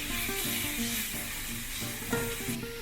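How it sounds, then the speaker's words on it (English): Spices sauté in a hot pan for a spicy corned beef masala, giving a loud, steady, close sizzle that runs without a break, with no one talking. "After sauteing the spices for about 2 minutes"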